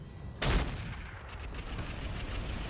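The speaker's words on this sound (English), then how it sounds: "we are going to fire on that Irby. Sniper artillery in indirect mode." A single heavy firing blast from sniper artillery in indirect mode in the RogueTech game, a sharp loud boom that trails into a low rumbling decay.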